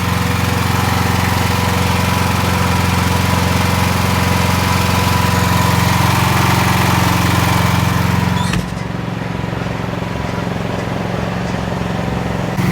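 A portable generator engine runs steadily and loudly at a constant drone throughout, with a slight shift in tone partway through and no talking.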